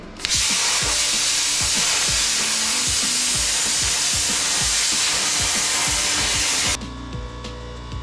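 An inexpensive plasma cutter slices a 1965 El Camino body panel, giving a loud, steady hiss over the rhythmic thumping of a noisy air compressor. The cutting stops, and the compressor keeps chugging alone.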